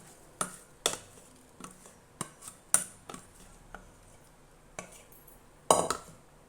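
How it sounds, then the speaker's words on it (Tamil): Plain cake batter being beaten in a bowl: irregular sharp clinks and taps of a utensil against the bowl, fairly quiet, spaced unevenly with pauses between strikes. "கடைசியாக இதையும் நான் பீட் பண்ணிக்கிறேன்."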